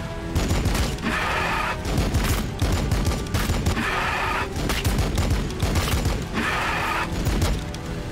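Gunfire from Blood Angels units in the video game Warhammer 40,000: Battlesector comes in loud, dense volleys with about three brighter bursts at regular intervals over continuous rattling shots and mechanical clatter.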